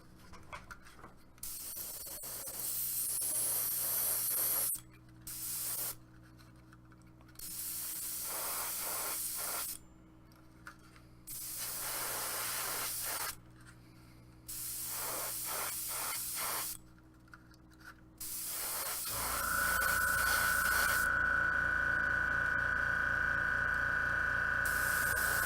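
Paint is sprayed in repeated bursts of loud hissing, each a few seconds long and separated by short pauses, ending in a longer, steadier spray.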